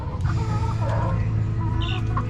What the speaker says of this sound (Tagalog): Ito pala yung aking Boston Hatch na 2 months old.